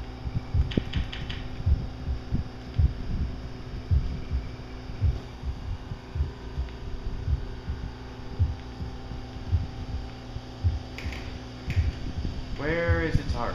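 A giant's heartbeat in the Giant Hunter video game thumps in a slow, steady, muffled rhythm over a constant low hum, with a brief vocal sound near the end.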